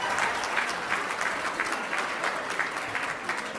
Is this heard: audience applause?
yes